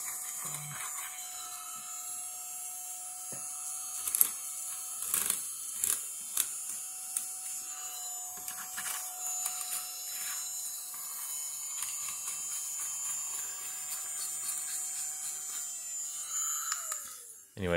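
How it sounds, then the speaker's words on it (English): A small mini USB rechargeable vacuum runs continuously with a steady thin whine while cleaning a mechanical keyboard, punctuated by light clicks and rattles of keys and debris, close to the microphone and without talk. "And then you can just vacuum it up."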